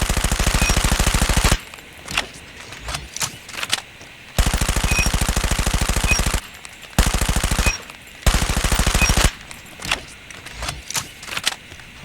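Automatic gunfire from weapons in Call of Duty Mobile, Season 3, comes in long sustained bursts separated by shorter choppy clusters of shots, loud and close with no talking.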